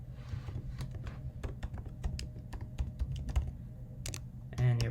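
Quick, uneven keystrokes clatter on a computer keyboard as an email address is typed, close and fairly quiet, with brief pauses between bursts of taps.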